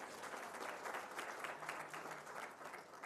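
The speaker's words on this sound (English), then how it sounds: "Can we give the minister a round of applause?" Audience applause for the minister at a ceremony releasing 2024 NSSCO and NSSCAS exam results: dense, continuous clapping from a crowd, heard at a distance and fairly quiet, holding steady throughout.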